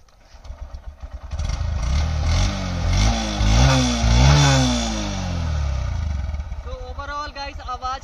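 A Honda 125cc motorcycle engine idles, then revs up and down in several rising and falling sweeps, loud and close. Around six seconds the engine sound settles and fades, and a voice speaks briefly at the end.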